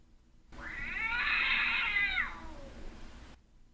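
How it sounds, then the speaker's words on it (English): A single long, plaintive cat meow rises and falls over about two seconds, clear and close against a quiet background. "If one heard a pitiful meow,"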